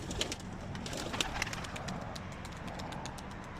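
Tumbler pigeons coo softly during morning training outdoors, with a few sharp wing flaps and clatters among the flock over steady background noise.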